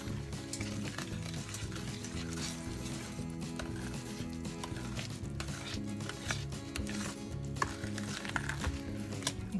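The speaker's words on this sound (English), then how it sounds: "And then just mix it up. Just with a spoon." Cupcake batter of flour, water and other pantry ingredients is stirred by hand with a spoon, a steady scraping and clinking against the bowl that carries on close and continuously throughout.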